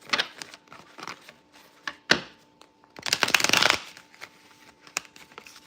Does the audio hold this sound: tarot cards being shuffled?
yes